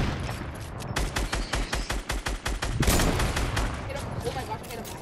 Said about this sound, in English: you hit him with the sniper